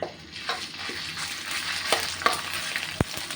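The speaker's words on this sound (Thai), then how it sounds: "กระทะนะคะ น้ำมันร้อนนะคะ ก็จะใส่พริกแกงลงไปนะคะ" Thai curry paste sizzles and crackles steadily in hot oil in a wok, with occasional scrapes and a sharp clink of a utensil against the pan near the end.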